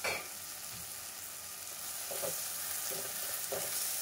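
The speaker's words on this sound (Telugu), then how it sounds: "పచ్చివాసన పోయే వరకు కాసేపు నూనెలో ఫ్రై చేద్దాం" Tomato pieces with salt, turmeric, chilli powder and coriander powder fry in oil for a mutton keema dish, a soft steady sizzle with a few gentle spatula scrapes, close and quiet, no voices.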